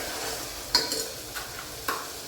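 A tempering sizzles in hot oil for a peas and potato curry, a soft steady hiss punctuated by a few distinct metallic scrapes and taps of stirring.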